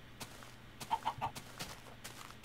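Minecraft chicken clucking in a video game, three quick soft clucks close together in the middle of the clip over a low steady background hum.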